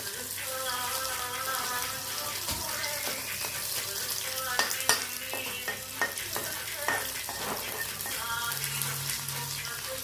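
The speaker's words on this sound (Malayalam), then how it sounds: "ഇനി നമുക്ക് നന്നായിട്ടൊന്ന് വഴറ്റി കൊടുക്കാം." Onions, curry leaves and other ingredients sizzle and get stirred in a hot pan while a dried red chilli chutney is being made. The frying hiss runs continuously, with scraping stirs and clicks of the spoon breaking through close up.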